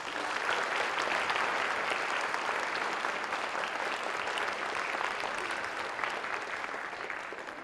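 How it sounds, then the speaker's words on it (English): Applause from the audience at a high school Veterans Day program, a dense, even wash of clapping that holds steady throughout and eases slightly toward the end. "Can I have a big round of applause for my guests?"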